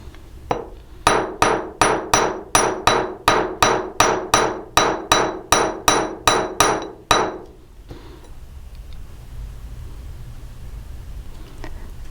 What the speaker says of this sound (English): I'm using a real nice, good quality chasing hammer here.